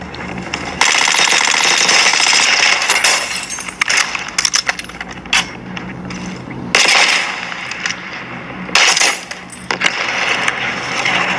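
Rapid automatic gunfire from Call of Duty Warzone plays through a Redmi Turbo 4 Pro phone's speakers, loud dense bursts with short pauses between them and metallic clinks scattered through, no voices.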